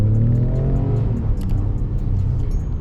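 A Ford Raptor pickup truck pulls away in drive, its engine rumbling low and close with a rising rev as it accelerates.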